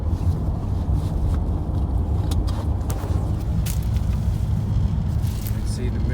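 Ford S-Max 2.0 TDCi diesel with an engine fault and lack of power, driven with the revs held up; a steady, loud engine and road drone with wind noise, no clear rise in pitch.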